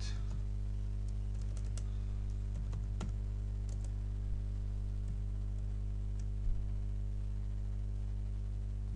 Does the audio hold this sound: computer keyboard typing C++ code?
yes